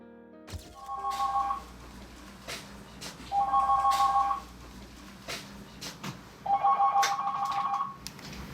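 A crisis counseling hotline telephone rings in three distinct bursts of electronic trilling separated by pauses, clear and close against a faint room background.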